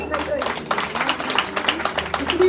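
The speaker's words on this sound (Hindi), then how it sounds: "एक बार इसके लिए जोरदार ताली" An audience at a Bhagavat Katha gives a burst of loud, dense applause. Many hands clap rapidly and unevenly, with a voice mixed in among the clapping.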